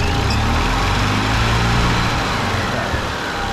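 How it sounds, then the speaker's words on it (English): The gas engine of a 2004 EZGO TXT golf cart runs close and loud, a steady, rough drone that holds evenly throughout the short stretch. "Turn off load, start engine."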